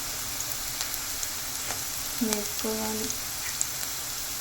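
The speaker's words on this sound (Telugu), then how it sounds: "ఇది కొంచెం లైట్గా ఫ్రై చేసుకోవాలి, ఎక్కువ కాదు." Carrot pieces and green chillies fry lightly in a pan for egg fried rice, giving a soft, even sizzle at moderate distance. A brief voice cuts in partway through.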